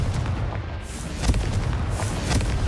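Spell-blast explosions from the Confringo curse in the Hogwarts Legacy video game thump and boom repeatedly over a dense rumbling din, loud and close.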